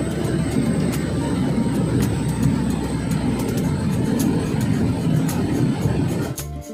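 A small pioneer passenger plane landing at Tanah Merah in Papua, heard from inside the cabin as a loud, steady engine and airframe roar that drops off abruptly right at the end, with no one speaking.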